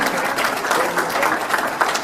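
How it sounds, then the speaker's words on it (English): Sustained audience applause at a Channel Islands Maritime Museum 25th anniversary celebration, a dense, steady wash of many hands clapping close by. "They need more applause, guys"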